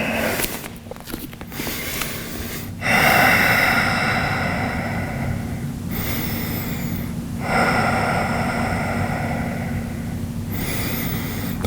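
Deep, slow breaths are drawn during a yoga stretch for the inner thighs and outer hips: several long, airy inhales and exhales, close and fairly loud, over a steady low hum.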